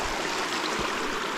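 Creek water running down a mountain trail where the gully is blocked, a steady close broadband rush and trickle with no pauses.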